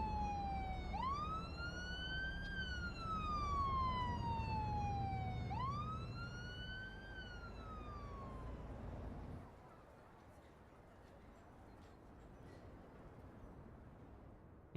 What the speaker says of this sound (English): You can see the police cars going out.